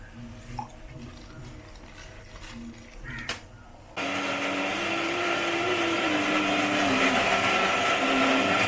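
A blender whips juice with milk. The first few seconds are quiet with small clatters, then the motor kicks in abruptly with a loud, steady whirring roar that holds to the end.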